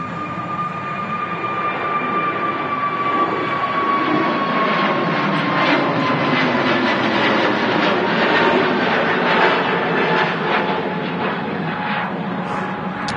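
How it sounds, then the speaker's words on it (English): An EasyJet airliner takes off at Manchester Airport bound for Hurghada, its engines giving a steady, loud, broad jet roar with a faint whine layered on top that holds throughout. "EasyJet's about to take off there from to Hurghada"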